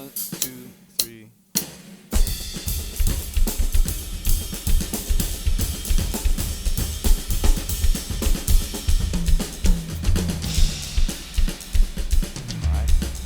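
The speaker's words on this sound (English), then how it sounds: "On the B section of the tune, I go over to the ride." Drum kit playing an open, jazzy groove on the ride cymbal in a practice setting: a steady, bright, shimmering cymbal pulse with kick and snare underneath, close and loud, following a few sharp opening hits.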